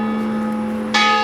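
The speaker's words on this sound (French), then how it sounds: "C'est une cloche." A church bell rings in the village of Bar-sur-Loup, a sustained, resonant tone that hums steadily before a fresh bright strike blooms near the end.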